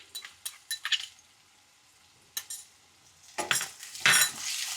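A spoon stirs curry leaves and ginger-garlic-chili paste in a pan for Gujarati kaju gathiya shaak, with scattered scraping and clinking strokes and a soft sizzle swelling toward the end.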